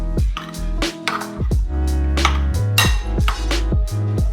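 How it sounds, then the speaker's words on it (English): Vegan mango salsa is stirred together in a bowl: loud, close, rhythmic clanks and scrapes of a utensil against the bowl, about two per second, with no talking. "Alrighty, mix that all together."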